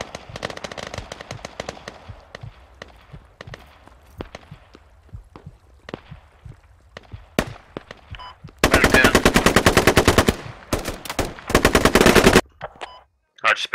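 Gunfire in the military shooter game Squad: scattered single shots and footsteps at first, then two long, loud bursts of rapid automatic fire close by.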